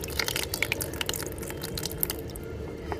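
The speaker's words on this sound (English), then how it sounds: "we locate the pump under the water. Okay, under the water, and it starts pump water." A mini 6V brushless DC pump, under 2W, runs submerged in water, giving a low steady hum with small trickling and dripping sounds near and at moderate level.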